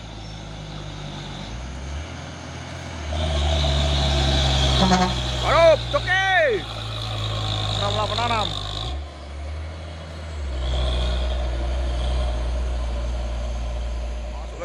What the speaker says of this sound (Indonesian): Masuk lagi truk Hino Jember Bonajaya Transport.